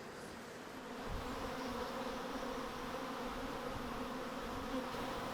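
Honey bees buzzing around their hives, a soft, steady, dense hum of many insects that swells slightly after the first second and holds evenly, faint and without voices.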